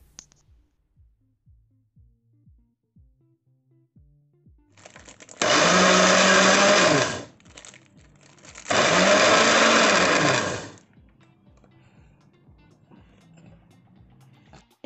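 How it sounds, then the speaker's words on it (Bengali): Mixer grinder blending chhena (cottage cheese) for sondesh, running in two loud whirring bursts of about two seconds each with a short gap between them, framed by quieter clicking and handling sounds. "ছানাটাকে ভালোভাবে স্মুথ করবার জন্য আমি একটা মিক্সির বোল নেব আর ছানাটাকে ভালোভাবে ব্লেন্ড করব।"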